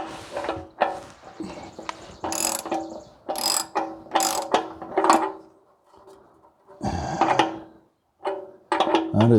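Close ratcheting clicks from a wrench tightening the oil drain plug on a 1967 International Harvester 444 diesel tractor, coming in several quick bursts separated by short pauses.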